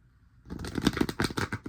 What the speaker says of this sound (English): Oh, that was a really bad shuffle.